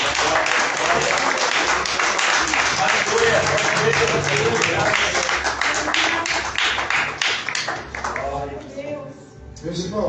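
A church congregation breaks into loud, sustained applause that fills the hall, with voices rising through it before it thins out toward the end.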